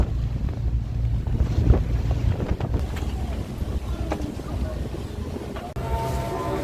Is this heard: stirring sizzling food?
no